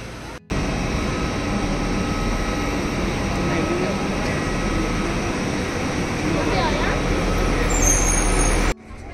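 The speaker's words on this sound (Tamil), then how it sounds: "பஸ்ஸெல்லாம் போகிறோம்" Steady, heavy interior rumble of a bus riding across an airport toward a waiting plane, a continuous low drone that stays loud throughout.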